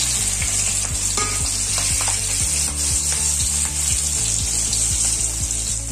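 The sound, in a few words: cut mirchi bajji deep-frying in hot oil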